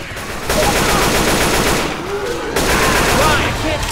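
Rapid automatic gunfire in the zombie shooter Left 4 Dead 2, loud, dense bursts of repeated shots running almost nonstop for the whole stretch, with players' voices partly mixed in.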